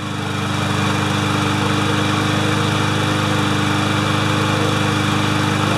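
An MTD mower with a Briggs and Stratton Classic engine runs steadily and loud, a dense, even mechanical drone with strong low harmonics that holds from start to finish with no pauses.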